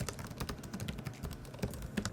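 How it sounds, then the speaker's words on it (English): Quick, soft clicking of typing on the chiclet keyboard of an Acer Nitro 5 gaming laptop, a rapid uneven run of light keystrokes close up, no voices. "A very gentle, smooth chiclet style keyboard."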